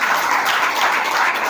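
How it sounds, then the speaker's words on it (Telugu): A church congregation claps in praise, a dense and loud patter of many hands that is steady throughout. "చప్పట్లు కొట్టి మహిమపరచవా?"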